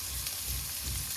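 Big chunky pieces of onion fry in a pan for arrabbiata sauce, giving a steady, close hiss and sizzle that runs evenly through the short moment with no talking.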